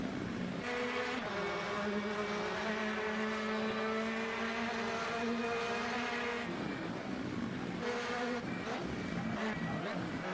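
Rally cars run flat out on a fast stage of Rally Pačejov, an Eastern European Rally Championship round, engines howling at high revs, a brief dip near six seconds, then the roar climbing again, loud and continuous.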